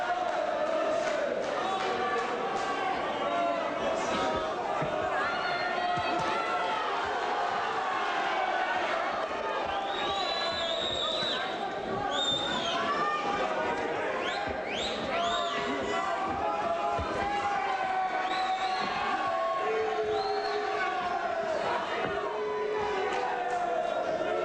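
A boxing crowd roars through a bout, a dense continuous wall of cheering and chanting with rising shouts and whistles, while a commentator talks over the noise.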